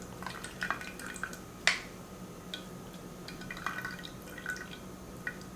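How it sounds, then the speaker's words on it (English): Liquid from cooked scuppernong grape hulls drips softly in scattered, irregular drops, with one sharper splash early on, all faint and close with no talking. "I'm not pressing too hard, but just enough to get some of the liquid out since I did cook them in water."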